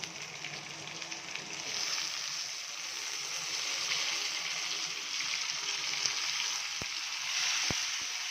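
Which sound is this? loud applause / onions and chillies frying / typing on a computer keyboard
onions and chillies frying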